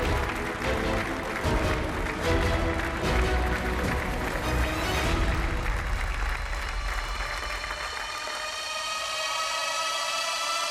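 Studio audience applause at a television game show, a loud, dense clapping crowd sustained for about five seconds, then tapering off as bright music swells and carries on alone.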